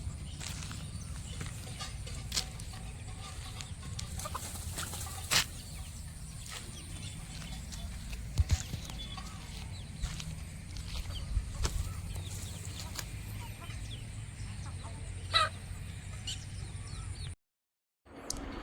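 Native country chickens raised in a village flock cluck faintly and intermittently against quiet outdoor background noise, with occasional sharp knocks and footstep-like sounds, before the sound cuts out near the end.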